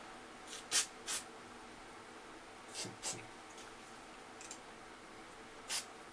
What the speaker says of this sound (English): spray on the parts